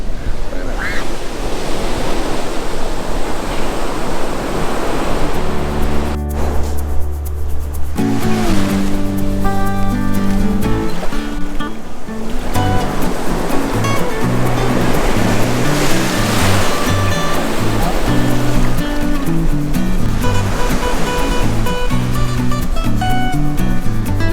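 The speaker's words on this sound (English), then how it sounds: "We made it to the beach!" Ocean surf rolling onto the beach at Chincoteague, Virginia, a steady loud wash of breaking waves with wind buffeting the microphone throughout, plus a brief tonal burst partway through.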